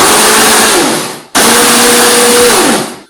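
A Vienta 1700 W blender runs in two loud close bursts, each a powerful steady whirring roar that spins down, with a short pause between them.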